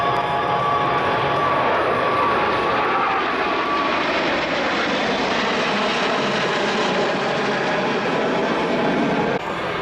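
Aircraft fly past low in a tight box formation at the Australian International Air Show, a loud, steady engine roar that swells and slowly fades, with faint crowd noise beneath.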